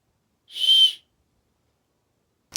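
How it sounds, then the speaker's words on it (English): A single sharp, high-pitched emergency whistle blast from a Japanese disaster survival bag lasting about half a second, then silence before a brief second toot at the very end. "A whistle, emergency whistle."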